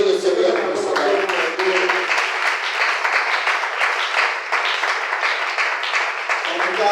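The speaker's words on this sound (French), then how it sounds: "Est-ce qu'on peut applaudir le Seigneur pour son amour?" A church congregation bursts into loud, sustained applause that fills the whole stretch, dense and close, with a voice speaking over the start and again briefly near the end.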